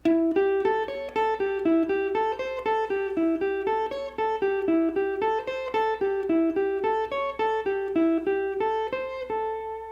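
A guitar plays a steady, repetitive finger-exercise run of single notes in an even rhythm, emphasis on the third and fourth fingers, close and clear, with no talking.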